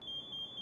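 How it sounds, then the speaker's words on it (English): An MSA G1 SCBA PASS device sounds its full alarm, a loud, steady high-pitched electronic tone that pulses slightly in level and runs continuously with no talking. "The pass device goes into full alarm to alert those who are close by"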